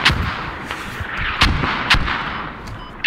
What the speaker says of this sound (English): Gotta let the mortars blow it up.